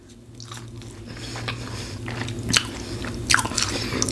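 Close-up crunchy bites and chewing of Five Guys Cajun fries, several crisp bites at irregular intervals over a soft, quiet background.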